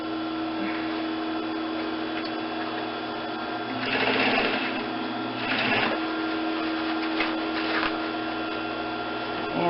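A sewing machine stitches a casing onto a hood, its steady whirring hum running throughout with louder bursts of stitching around the middle and again near the end.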